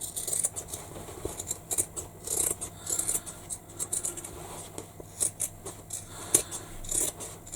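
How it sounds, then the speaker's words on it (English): Scissors trim the fabric seam allowances of a sewing project down to a quarter inch, producing a series of close, soft snips and slicing scrapes in an uneven rhythm, with no speech. "So I'm trimming to 1/4 of an inch."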